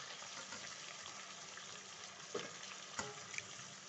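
Potatoes tipped into a pan of mince already frying with yogurt for a smoky barbecue keema, giving a steady broadband sizzle with a couple of sharp clatters partway through, no talking.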